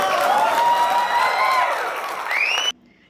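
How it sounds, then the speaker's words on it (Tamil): Crowd clapping and cheering after a speech from a stage at a political gathering, a dense, loud wash of applause that fades slightly, then cuts off abruptly near the end. "அதுக்கு கைத்தட்டு வர ஒரு ஆள் கைத்தட்டணுன்னு கும்பலை கைத்தட்டுறதை மட்டும்தான் நம்மளால் கேட்க முடியுது"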